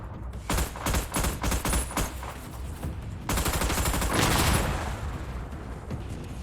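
Rapid gunfire from the Battleship video game, based on the movie, sounds as dense bursts of automatic shots in a steady rattling rhythm, loud and continuous, with a short pause before a sustained barrage.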